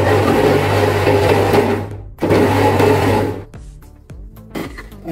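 A mixer grinder blends ponnanganni greens for a Tamil kadaiyal, a loud steady whirring motor that cuts out briefly, restarts, then stops, leaving clattering knocks as the jar settles.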